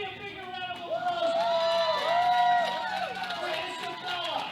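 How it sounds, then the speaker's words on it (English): A crowd cheers and whoops for a young lifter at a youth powerlifting nationals event, a steady, loud roar of voices and clapping that swells in the middle and lingers as a busy hubbub. "Come on, give me a bigger round of applause"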